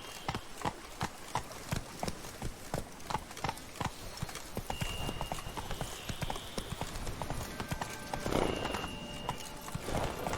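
A horse in The Witcher 3: Blood and Wine gallops with a rapid, steady clip-clop of hooves, close and loud throughout, while faint tonal game sounds drift in behind.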